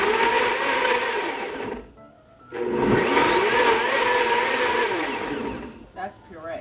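A kitchen blender purees jalapeno peppers loudly in two bursts, stopping briefly before whirring again, then cutting off near the end.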